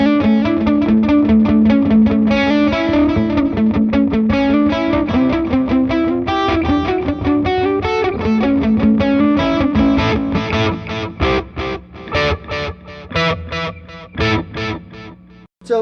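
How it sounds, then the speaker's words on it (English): Electric guitar played through distortion with delay on the distorted signal, a loud, continuous run of overdriven notes with echoing repeats, ending in sparser picked notes. "Now we're actually delaying the distorted signal."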